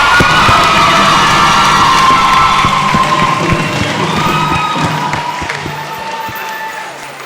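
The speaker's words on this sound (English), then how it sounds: "Please give them another round of applause." Loud audience cheering and applause for student directors at a school theatre production, shouts and whoops over a wash of crowd noise that slowly tapers off.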